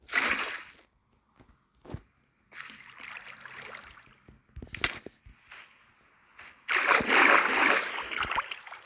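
Bursts of water splashing in a video game's Nether come in several uneven clusters, loud and close, with short quiet gaps and a big sustained splash near the end.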